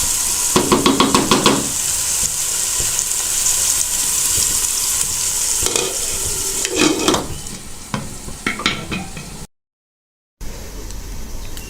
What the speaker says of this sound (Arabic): من بعد ما تقلى لينا الدجاج والبصيله ديالنا على هذا الشكل